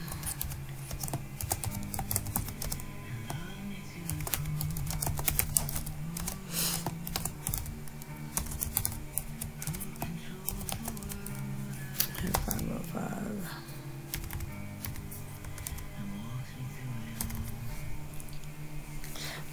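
Typing on a computer keyboard while entering records into a database, a steady run of quick, close, moderately quiet key clicks with occasional heavier taps, over a low background hum.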